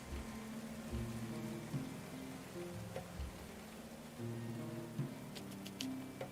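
Rain falls in Going Medieval, a soft, steady patter spread across the whole stretch, mixed with low tonal game sounds that rise and fall in the background.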